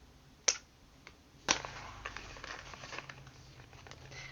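Paper wrapping on a book subscription package is torn open close by, with two sharp rips followed by softer crinkling and rustling.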